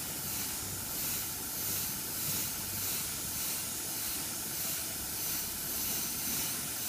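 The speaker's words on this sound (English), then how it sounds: "So you will blow some salt off with the airbrush" An airbrush blows a steady, soft hiss of air to clear salt off a model during salt-chipping paintwork; the constant airy spray continues alone and unbroken, with a faint pulsing swell.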